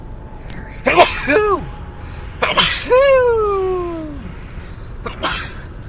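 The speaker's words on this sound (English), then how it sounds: "And I got to sneeze." Three sneezes in a row, close and loud, each with a sharp burst and a trailing, pitched exhale; the middle one is the longest.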